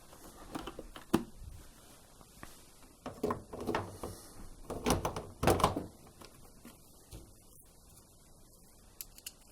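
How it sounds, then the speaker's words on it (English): A door is refitted onto a Bosch washing machine, with a series of sharp knocks, clicks and thunks of parts and screws spread irregularly over several seconds, close and fairly quiet, with no talk. "Now I can refit the door to the machine."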